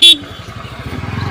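A Honda Activa scooter idling close by, a short horn toot at the start followed by a steady low putter of the engine.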